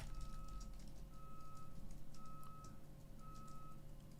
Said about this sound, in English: Boy, those trucks are loud.